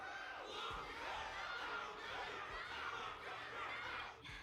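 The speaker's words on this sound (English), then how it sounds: "Can't you hear? Everyone's cheering for you, Luca." Animated crowd cheering and roaring continuously at a Honkai: Star Rail tournament battle arena, a dense wash of many voices holding steady throughout with brief louder swells.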